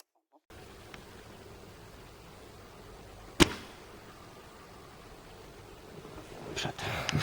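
A single sharp airsoft gun shot fired through an Italian-made custom hop-up bucking, one crisp snap standing out against a steady outdoor background hiss, with faint rustling afterward.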